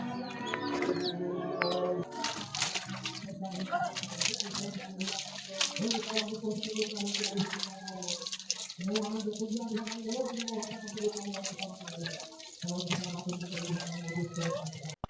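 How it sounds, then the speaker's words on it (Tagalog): Tap water runs into a basin during rinsing, a continuous close splashing flow with a humming tone and occasional drips, and a bird calls nearby. "So, diri lang ta magbanlaw."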